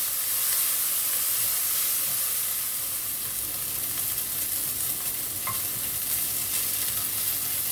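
Bacon lardons frying in a pan, a steady close crackling sizzle with light stirring scrapes, continuous and even throughout with no voices.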